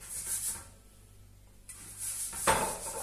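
Oil is rubbed over a grilling pan, giving soft metallic scraping and light clinks at close range, then a brighter burst of rubbing near the end.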